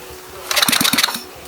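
Small go-kart engine being cranked with the choke on, a quick run of sharp rhythmic chugging pulses for about half a second that fails to catch and fades, close and fairly loud.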